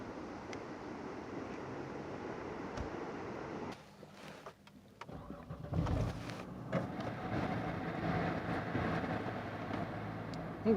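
A RIPP-supercharged 3.6 Dodge Charger engine cranks and catches, then settles into a steady, fairly loud idle rumble after a brief lull in the background noise.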